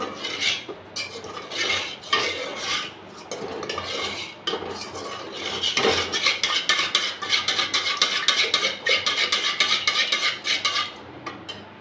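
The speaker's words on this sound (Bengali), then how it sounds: "এবার এটাও ভালো করে আরেকবার মিশিয়ে নিচ্ছি" A mango curd (sweet yogurt) mixture being stirred in a bowl, with a spoon scraping and clinking steadily against the sides, growing busier and louder in the second half, with no talking.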